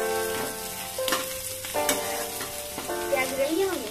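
Onions fry in a pan for veg chowmein, a steady close sizzle broken by repeated scraping stir strokes, with no voices over it.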